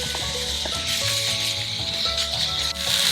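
Peppers and onions sizzle in lard in a cast iron pan, a steady close hiss running throughout with faint clinks and tonal background hum layered underneath.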